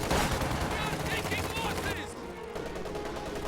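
Machine gun fire and gunshots in a World War II strategy game battle with Fallschirmjäger troops, rapid bursts crackling over a busy mix of game effects, then settling into a quieter rumble of distant combat.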